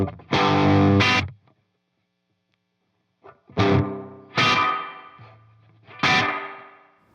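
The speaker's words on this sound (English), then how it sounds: "you just put a splash of reverb" Distorted electric guitar chords ring out through a reverb effect, each strum followed by a lingering wash of decay; four separate hits with a pause between.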